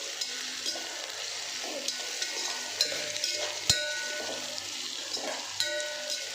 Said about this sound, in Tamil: வெங்காயம் நல்லா செவந்து வந்துடுச்சு.